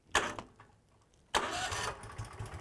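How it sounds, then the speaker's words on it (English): Engine of a Cherry fire truck starting up: a short cranking burst, a pause, then a second crank that catches into a steady running idle, close and fairly loud. "At that point, the engine will start."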